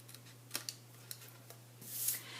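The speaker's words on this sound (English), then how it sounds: "just trim off a little bit of these smaller tabs, cut into the corners there" Scissors trim small paper tabs and cut into the corners of cardstock for an Easter basket: a few quiet, sharp snips and ticks spaced over a couple of seconds, with a brief rustle of paper near the end, no talking.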